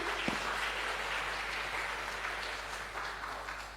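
An audience at a business ethics seminar applauds in a continuous, dense wash of clapping that holds for nearly four seconds and fades slightly at the end.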